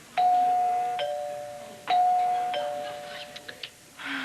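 A two-tone ding-dong doorbell rings twice in a row indoors, each chime clear and ringing out before fading, followed by faint clicks and a brief soft sound at the end.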